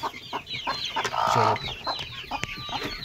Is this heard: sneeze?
no